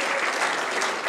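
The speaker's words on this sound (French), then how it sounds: "On peut l'applaudir d'être là ce soir avec nous." A conference audience in Chamonix applauds a guest speaker, a brief, dense burst of many hands clapping together without pause.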